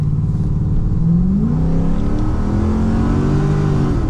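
A cammed Holden SS Commodore with an LS1 V8 accelerating up a hill, a loud, close, lumpy engine note whose pitch climbs as the revs rise and stays strong throughout.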